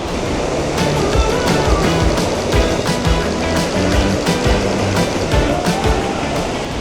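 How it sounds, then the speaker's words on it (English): A waterfall about 50 feet tall on a whitewater river near Pucón, Chile, pours with a loud, steady, close-up roar of churning water, broadband and continuous, with slight surging pulses throughout. "this is about 50 feet tall. It is a beautiful waterfall."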